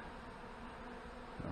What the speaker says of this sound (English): look at all the lost bees